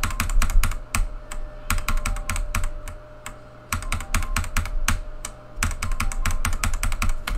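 Computer keyboard keys pressed rapidly during gameplay, clustered clicks in quick bursts over a steady low background hum, close and clear.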